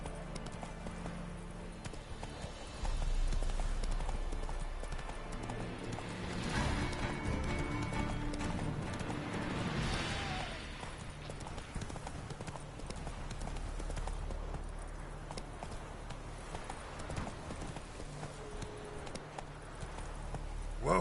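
Roach, a horse in The Witcher 3, clip-clops along in a steady hoof rhythm that swells louder and busier after the first few seconds, with occasional snorts and a rider's brief voice over ambient game sound.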